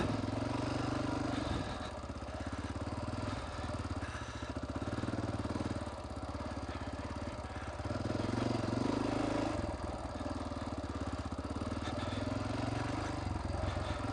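XR dirt bike engine running steadily while riding a trail near Monument, Colorado, a continuous loud mid-pitched drone with rough clattering texture and slight surges in throttle, close to the listener throughout.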